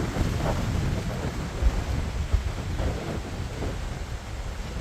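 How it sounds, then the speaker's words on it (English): Strong wind buffets the microphone on a lake shore where a dock is being built, a loud continuous roar and rumble with gusts swelling and easing, and no voices. "It is like crazy windy. I'm sure you can hear it."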